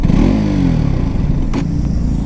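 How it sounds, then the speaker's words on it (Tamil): A 2021 KTM RC200 BS6 motorcycle exhaust roars loud and close with a sharp rev that drops back to a throbbing idle, a brief scraping clatter cutting through midway. "அண்ட் இதோட எக்ஸாஸ்ட் நோட்டை ஃபஸ்ட்டு கேளுங்க"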